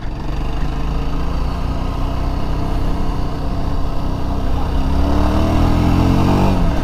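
A Yezdi Scrambler motorcycle engine runs steadily close by off-road, then revs higher with rising pitch toward the end, loud and continuous.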